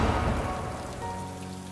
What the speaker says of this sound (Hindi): तेज़ बारिश होने लगी थी, आंधी तूफान जैसा, बिजलियाँ कड़क रही थी